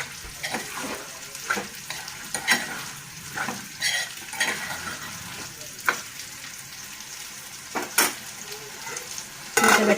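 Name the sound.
chicken liver and raw banana curry frying and popping in pan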